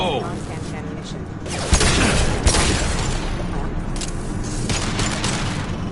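Rifle fire with non-standard ammunition, loud and close, with heavy cracks near 1.7 and 2.5 seconds over dense continuous noise, and a voice talking alongside.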